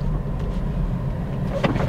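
Toyota Vios 1.3 automatic driving along, a steady low engine and road rumble filling the cabin throughout, with a few faint clicks and knocks near the end.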